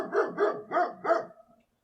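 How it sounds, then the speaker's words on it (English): A dog barks four times in quick succession, close and clear, each bark rough and evenly spaced, with nothing else heard around it. "barking at the undergrowth"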